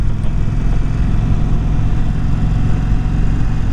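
A 2020 Indian Springfield Dark Horse 116 motorcycle with an upgraded Indian exhaust runs steadily, its deep low rumble loud and close, continuous throughout with no speech.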